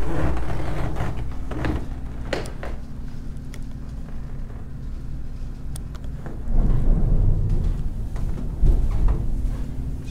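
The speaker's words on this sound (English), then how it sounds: "Did you guys just hear that thunder?" Low rumbling thunder rolls through steady background noise in the Bighorn Mountains of Wyoming, building in a deeper swell in the second half, with a few scattered clicks and knocks.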